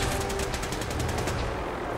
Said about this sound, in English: There's so much shooting from everywhere.